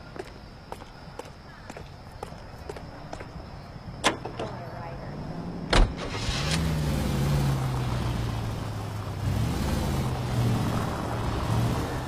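Car in LA Noire, with footsteps and a door clunk before the engine starts and settles into a steady low idle that rises in pitch as it pulls away.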